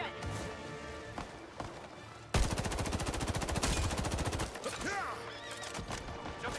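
Rapid automatic gunfire in the Highguard video game rattles loud and continuous for several seconds after a few single shots, mixed with a horse's whinny and galloping hooves.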